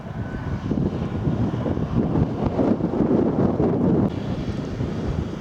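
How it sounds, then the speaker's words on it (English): Steady gusting wind buffets the microphone outdoors on a country walk near Clavering, a continuous low rumbling roar that swells and eases without any talking. "So as you can probably detect, the wind's picking up again as I approach Clavering."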